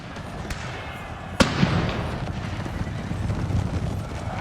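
A single sharp pistol crack in a Total War battle set in the Thirty Years' War, followed by a thick rumble of cavalry hooves, clattering and battle noise as lancers charge, steady and dense throughout.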